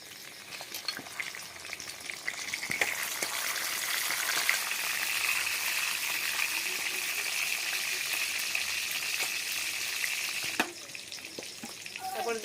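Bay leaves and cardamom sizzle and crackle steadily in hot oil in a pan, a loud continuous frying hiss with occasional sharper pops and stirring noises, no voices.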